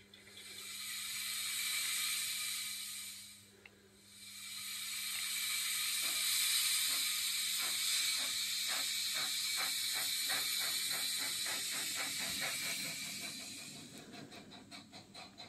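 A Tillig 040TX model steam locomotive sound module plays a loud steady hiss of steam that breaks off briefly, then returns as a rhythmic chuffing that quickens into rapid beats, with mechanical clanks near the end.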